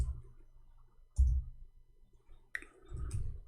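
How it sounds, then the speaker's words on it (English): A computer keyboard clicks in a few separate bursts, short sharp taps and clatters with quiet gaps between them, close and fairly faint. "Okay, finally our keyboard working fine."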